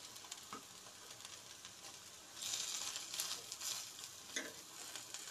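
Iftar snacks fry in a pan and get flipped with a spoon. A faint, steady sizzle swells louder midway, with occasional scrapes and taps of the spoon.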